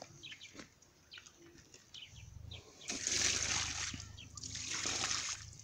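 Well water is poured out onto the ground in splashing bursts that build into a sustained gush in the second half. Birds chirp in the background and faint voices are heard.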